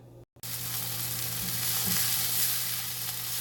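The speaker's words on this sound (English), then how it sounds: "now that our onions and peppers sweated down" Onions and peppers sautéing in a hot pan, a dense steady sizzle filling the clip after a brief silent gap at the start, close and loud with no voices.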